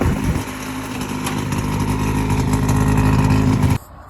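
An old engine runs close by with an uneven, sputtering beat, roughly chugging for a few seconds before cutting off abruptly.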